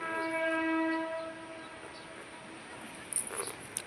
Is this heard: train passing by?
yes